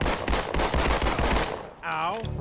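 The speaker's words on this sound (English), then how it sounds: "I tried to kill Johnson because I wanted his sniper rifle." Rapid automatic gunfire from the Halo 2 video game rattles in quick bursts, loud and close, followed by a short electronic game sound effect.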